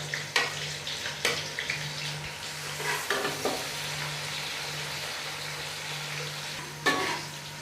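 Onions frying in hot ghee for Punjabi sarson ka saag give a soft continuous sizzle, punctuated by several clacks of a spoon stirring the pan; no talking.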